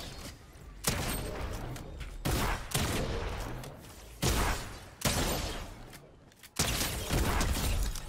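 Bursts of loud, close video game gunfire in a solo match, with several heavy volleys separated by short pauses and mechanical clatter between them; no talking.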